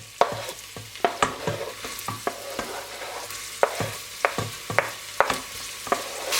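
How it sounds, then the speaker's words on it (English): Onions, garlic and tomatoes frying in a pan for an Indian potato curry, a steady close sizzle punctuated by frequent sharp scrapes and clacks of a utensil stirring, with no talk. "We're gonna go in by adding the onions, the garlic, and the tomatoes first, and let that fry."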